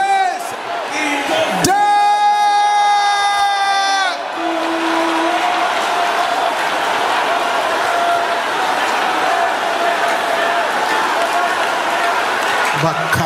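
Congregation of men roaring and cheering loudly at a church service, a sustained crowd roar filling the room, with a strong tonal shout rising near the start before settling into steady crowd noise.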